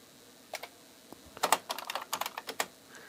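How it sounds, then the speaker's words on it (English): Fingers tap a computer keyboard in a short, uneven burst of clicks, close and fairly quiet against a soft room hiss with no talking. "fumbling around with the keyboard"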